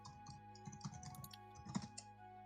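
A computer keyboard is tapped during a fast-paced online game, giving several quick, soft key clicks in short bursts over a steady electrical hum.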